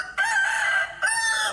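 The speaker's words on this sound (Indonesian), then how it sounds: "Coba kita dengarkan ayam jantan berkokok." Two loud rooster crows sound back to back, each a strong drawn-out cock-a-doodle-doo with a brief gap between them, close and clear with no talk.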